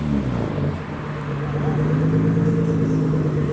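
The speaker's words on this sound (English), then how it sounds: "Next up we have a Mark II MX-5 with noise." A second-generation Mazda MX-5 roadster pulls away from a Japanese car show, its engine a steady, loud mid-pitched drone that holds and swells slightly as it drives off, with no talk over it.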